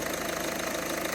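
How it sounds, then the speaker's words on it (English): A used car's engine idles steadily, a continuous close mechanical hum with a faint rhythmic knock running through it and no talk over it. "Idling is absolutely lovely"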